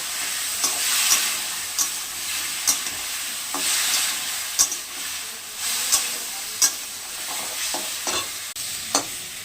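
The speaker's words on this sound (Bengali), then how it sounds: "বাটিটা দিয়ে একটু জল দিয়ে দিলাম, কষিয়ে নেব।" Spice paste of ground ginger, cumin and chili with salt, turmeric and a little jaggery being sautéed with a splash of water, giving a steady close sizzle broken by repeated scraping stirs of a spoon in the pan.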